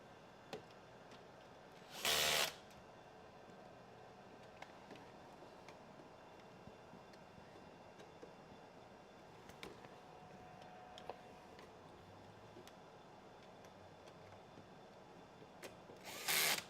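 A power tool tightens fasteners on a DC supply during reassembly of a Merlin FEG SEM, in two short loud bursts, one early and one at the very end, separated by a long quiet stretch with faint clicks.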